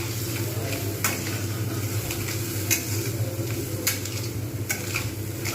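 Rui fish curry with black cumin seeds being stir-fried in a pan, a steady sizzle with occasional sharp clinks and scrapes of a spatula against the pan.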